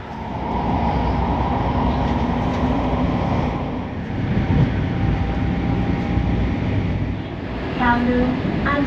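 A passenger train carries riders from the airport on Lantau island into central Hong Kong, giving a steady, close rolling rumble with a thin electric whine throughout. Soft voices sit faintly in the background.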